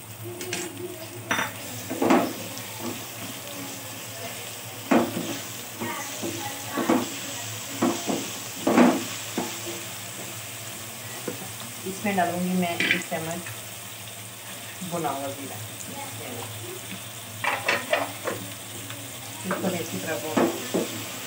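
Onion with cumin, tomato and garlic paste sizzling in a pan for a village-style masala torai sabzi, with repeated stirring clinks and scrapes of a spoon against the pot over a steady frying hiss.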